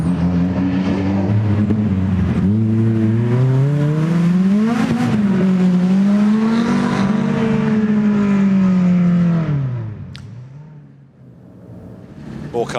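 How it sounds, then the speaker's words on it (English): A rally car at the Goodwood SpeedWeek rally super special revs hard at full throttle, and the loud, sustained engine note climbs and falls as it booms and echoes through a tunnel before fading away. "unleash the throttle finally, and the noise reverberates through the tunnel"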